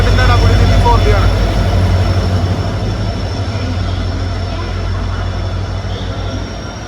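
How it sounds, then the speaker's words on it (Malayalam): WDP4 diesel locomotive 4172 passes on the Shoranur–Nilambur line with a loud, steady rumbling roar that fades slightly as it goes by. "4172 WDP 40 ലോക്കോട്ടോ വരുന്നത് റൂട്ട് സെറ്റിൻ്റെ പൊന്മല റോക്ക് സെറ്റിൻ്റെ WDP 40 ആണ്."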